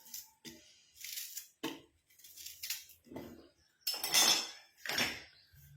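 A whole onion being cut and the pieces dropped into a vessel, giving faint scattered clinks and knocks of kitchenware in a quiet room, with several separate brief sounds spread across the clip.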